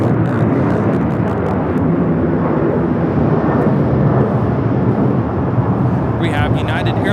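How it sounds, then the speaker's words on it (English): A United Airlines Boeing 737-900ER taking off from Los Angeles International Airport bound for Houston, a loud, sustained jet roar rumbling steadily throughout, with faint voices in the background near the end. "We have United Airlines 2085 taking off to Houston Intercontinental on the 737-900ER"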